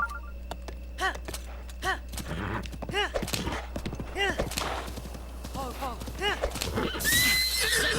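A horse neighs and whinnies several times in Breath of the Wild, with clip-clopping hooves and game noise beneath, all under a constant low hum; a person speaks between the whinnies.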